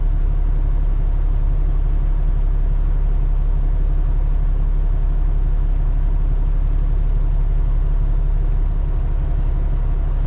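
A heavy truck idles with a steady, loud low rumble, holding a constant engine drone throughout with no clear pull-away or braking heard.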